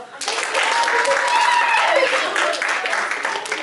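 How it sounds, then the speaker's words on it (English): A classroom group claps for themselves after finishing partner work, a dense, steady burst of applause lasting several seconds with faint voices mixed in. "Clap for yourself"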